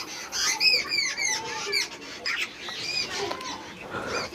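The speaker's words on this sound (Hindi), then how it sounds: "ये चिड़िया हमें परेशान करने क्यों आ गई है। वो बिल्ली देख रही होगी इसलिए चिल्ला रही होगी" A bird squawks in a string of harsh, repeated calls outdoors, loud and close at first, then fading into scattered fainter cries.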